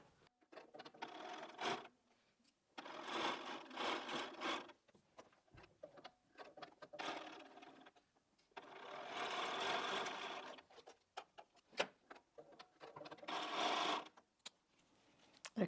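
A sewing machine stitches a LeMoyne Star quilt block in several bursts of fast, steady whirring, with short quiet gaps between runs. It is close and fairly quiet, and no one speaks over it.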